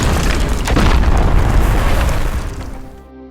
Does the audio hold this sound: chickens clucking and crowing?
no